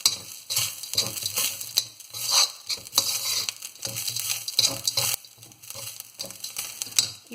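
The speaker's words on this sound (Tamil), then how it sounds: "கைவிடாமல் வதக்கிட்டே இருங்க." Onions, curry leaves and spices sautéing over a low flame in a pan for a Nagercoil-style karutha fish curry, sizzling steadily while a spoon scrapes and stirs in repeated close strokes, with no talking.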